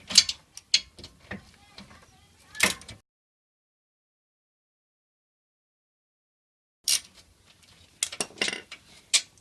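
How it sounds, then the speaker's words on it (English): A ratchet with a 14mm socket undoing the pinch bolt at the bottom of a Subaru steering knuckle, a few clicks and metallic clinks close by, a long silence, then another short burst of ratcheting. "we'll just get a 14mm socket and undo the pinch bolt from the bottom of the knuckle"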